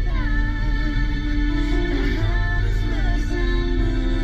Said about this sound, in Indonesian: Untuk audio Datsun Go ini masih menggunakan single DIN dari JVC.